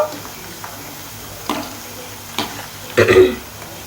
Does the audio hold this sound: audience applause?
no